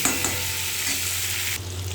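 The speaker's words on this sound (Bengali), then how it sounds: "তো চলো এটা ভাজা হতে থাকে" Whole okra pods fry in hot oil in a pan, producing a dense, close, constant sizzle with faint stirring and a slight drop in brightness near the end.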